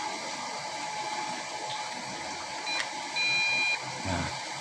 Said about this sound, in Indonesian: sudah ada bunyi bip-bip 2 kali, berarti sudah terkoneksi dengan remote